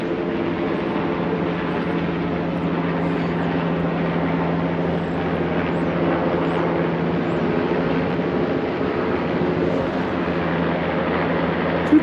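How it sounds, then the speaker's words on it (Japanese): Helicopter flying over New York harbor, a steady loud rotor and engine drone that holds level and continuous throughout, with no voices. "結構今日はヘリコプターがよく飛んでます。"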